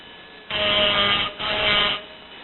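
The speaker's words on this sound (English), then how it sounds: "then you will see I use file or sandpaper, and then shape it pretty easy" A file or sandpaper shapes a piece of wood in two long, steady, close rasping strokes, separated by a brief pause.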